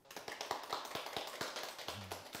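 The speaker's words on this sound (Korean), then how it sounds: "남서방 남재현 원장님을 박수로 모시겠습니다" An audience claps to welcome a speaker at a televised lecture, a brief run of soft, quick claps that ends after about two seconds.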